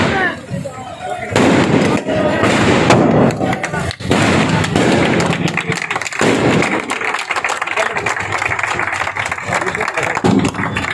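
Fireworks crackle and pop during an inauguration ceremony with colored paper confetti thrown, a loud continuous burst of bangs and crowd noise with people talking underneath.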